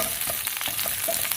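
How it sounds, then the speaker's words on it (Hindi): Finely chopped onions sauté in a hot pan with oil, giving a soft, continuous crackling sizzle at low volume, with no talking over it. "सौते करेंगे प्याज को"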